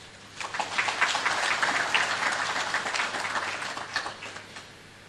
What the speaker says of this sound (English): Another round of applause for Mr. Gasogo for that powerful presentation